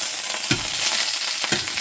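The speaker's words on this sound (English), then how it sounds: "So you can see the sear starting to happen." Pork sears in a hot pan, giving a steady close sizzle with a couple of brief clatters as the meat is moved. No one speaks.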